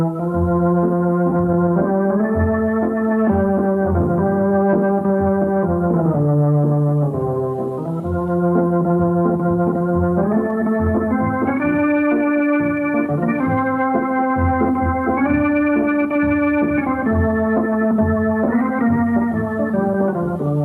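A well-known tune played straight on an organ-like instrument, sustained chords moving stepwise with a clear melody on top, loud and continuous throughout with no voices.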